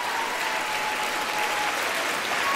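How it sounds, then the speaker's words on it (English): Democrats applauding during a State of the Union address, a sustained, even wash of clapping from a large chamber audience, moderately loud and continuous throughout. "One of several moments when we've had Democrats applauding"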